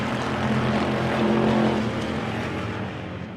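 Race cars, a 1957 Chevy among them, roar around the Victory Lane Speedway oval in a loud, dense wall of engine noise that swells and then eases slightly as they pass.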